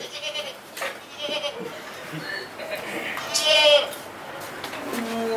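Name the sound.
goat bleating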